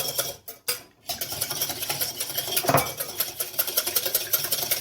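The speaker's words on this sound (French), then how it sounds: "On va le fouetter." An egg is whisked in a bowl for baba au rhum batter, a quick close rhythmic clicking and swishing of the whisk against the bowl that starts after a brief pause and continues steadily.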